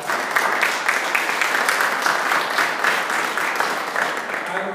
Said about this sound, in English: So let's give Tyler another round of applause.